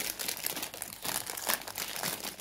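A plastic bag rustles and crinkles steadily as it is torn open during a prize challenge, close and fairly loud, with no voices over it.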